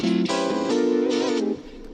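An electric guitar played through an Axe-FX III pitch effect set to shift up eight semitones gives a bright, doubled, slightly warbly tone. A few sustained notes change over about two seconds, then fade, with no talking.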